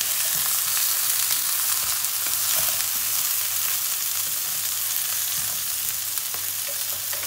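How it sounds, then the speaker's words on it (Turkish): Meat bones seared in a large pan for a soup, sizzling and frying steadily and loudly throughout with a constant crackle, alone with no voices. "Büyük bir tavayı aldım. Tavada mühürlüyorum."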